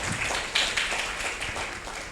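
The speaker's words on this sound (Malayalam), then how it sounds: "ഒരു കയ്യടി കൊടുക്കണം കേട്ടോ" An audience claps together in a dense, continuous patter of applause, moderately loud and fairly close, with no talk over it.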